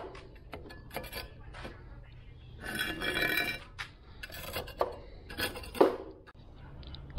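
A trowel works over green concrete kerb edging, giving soft intermittent scraping strokes with light gritty rubs and a few small clinks, fairly faint and close by.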